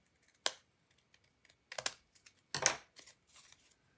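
Scissors snip through a piece of craft card for a layered card, a few crisp cuts and rustles with pauses between, close and quiet.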